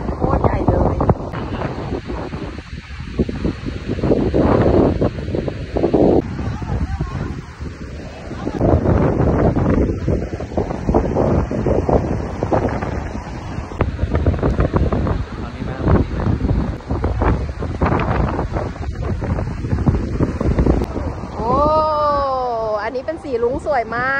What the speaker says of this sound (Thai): ลมแรงมากเลยตอนนี้